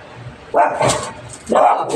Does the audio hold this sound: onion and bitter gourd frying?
no